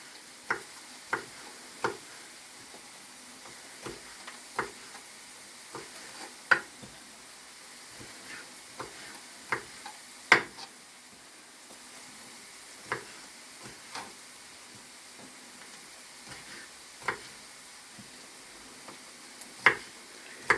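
Onions sizzle softly in a pan for egg fried rice, with repeated scraping taps as they are stirred, sharp clicks scattered over a steady low frying hiss.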